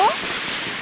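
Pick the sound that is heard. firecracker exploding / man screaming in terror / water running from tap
firecracker exploding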